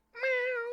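A person imitates a cat with a single short, clear meow, close and alone.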